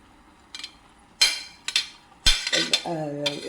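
Sautéed masala is tipped into atta noodles in a pan and stirred, with sharp clinks and scrapes of a utensil on metal in brief bursts, close by, and a faint sizzle between strokes.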